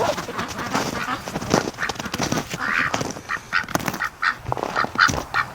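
Muscovy ducks call and quack in a series of short, breathy notes nearby inside a barn, mixed with scuffling and splashing noises, some calls repeating toward the end.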